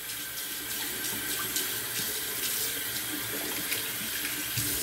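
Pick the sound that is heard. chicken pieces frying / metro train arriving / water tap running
water tap running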